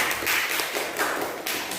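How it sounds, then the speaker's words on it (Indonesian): Applause from a class of students in a classroom, a dense, continuous wash of clapping hands lasting a couple of seconds, close and fairly loud. "Berikan tepuk tangan untuk temannya yang sedang mengerjakan hasil karyanya dengan bagus"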